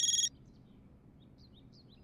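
A brief electronic phone ringtone chimes loudly for a moment and then cuts off, leaving a quiet room with faint background hum.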